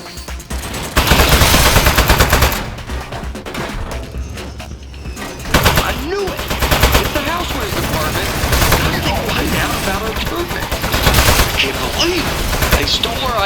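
A turret ambush in the Aperture Desk Job video game: loud, rapid automatic gunfire erupts after a second, briefly thins around the middle, then resumes as sustained, close bursts.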